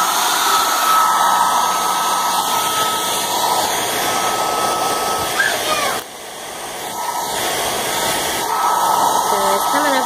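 A hair dryer blowing hot air onto wax stuck to a floor, a loud continuous whirring hiss that dips briefly midway as it is moved, then returns to full strength.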